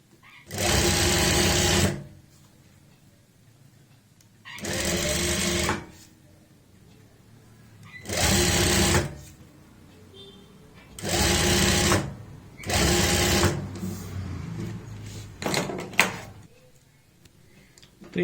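A sewing machine stitches a kurta in five separate bursts of about two seconds each, loud and close, with quiet handling of fabric in the pauses between runs.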